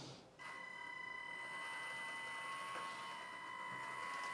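A steady, high electric whine from a licensed 1/18 scale Scania RC truck driving while carrying about 9-10 kilos, holding at an even level throughout at close range.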